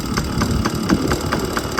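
A 1997 Yamaha PW50 two-stroke shaft-drive mini dirt bike idles while warming up, giving a steady, close, buzzy engine note with an even rapid pulse throughout and no talking.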